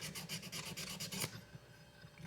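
The metal frame of a La Rosa jaw harp is rubbed up and down with a file, giving a soft, steady rasping scrape in regular strokes that stops after about a second, faint and close.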